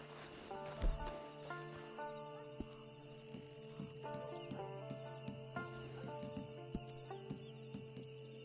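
A horse in the video game Red Dead Redemption 2 Online, with soft hoof clops and snorts under a layered musical game soundtrack, fairly faint overall.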